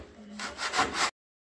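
Hand sawing through excess fiberglass on a car spoiler: a short run of rough, rasping back-and-forth strokes, close and fairly loud, ending abruptly.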